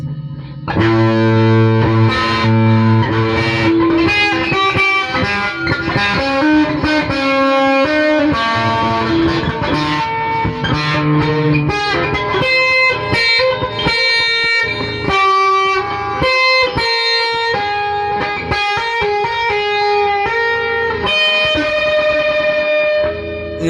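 Distorted electric guitar plays a continuous run of notes and bends, heavily processed with effects, loud and alone.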